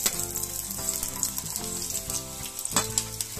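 Onions frying in a little oil in a hot pan, a steady close sizzle with soft crackle and an occasional stir scrape.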